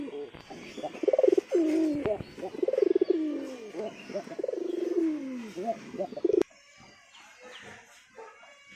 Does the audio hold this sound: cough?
no